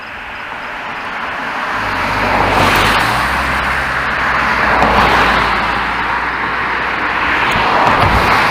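Road traffic rolls past nearby, engine rumble swelling and fading as vehicles go by in a steady, continuous roar.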